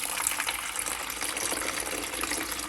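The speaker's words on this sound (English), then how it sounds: "I'll just pour the water in." Water is poured into the reservoir of a countertop ice maker, a steady close splashing and trickling stream lasting a few seconds with no talking.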